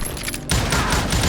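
Gunfire in the Old West shooter Gunslinger: a quiet stretch breaks into a loud volley of overlapping shots that rattles on, close and dense, like a fusillade, with no talk over it.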